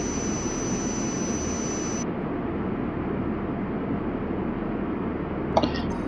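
Jet airliner taking off at JFK airport, a steady broadband engine roar holding at an even level throughout, with no voices over it.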